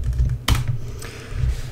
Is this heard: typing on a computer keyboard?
yes